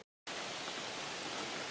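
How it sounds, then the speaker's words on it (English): Steady rain falling outdoors during an amateur radio Field Day, a dense, even hiss that starts abruptly after a short silence and holds constant with no voices. "it's been raining pretty much constantly since then"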